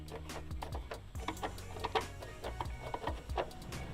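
Small metallic clicks and ratcheting taps come from a hand tool backing T25 bolts out of the main hood latch on a BMW E90, a close, busy rhythm of ticks with no speech.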